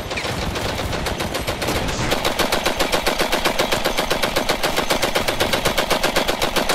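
Sustained World War-era gunfire in the battle game Ravenfield, a dense, continuous rattle of rapid machine-gun shots that settles into a steady rhythmic burst, loud and up close with no talking.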